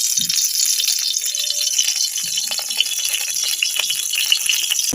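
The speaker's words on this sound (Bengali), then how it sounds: "এবার শিমটা কষিয়ে নেব।" Ground flat bean paste is stir-fried in a pan, making a steady close sizzle and hiss with occasional light rattles from stirring.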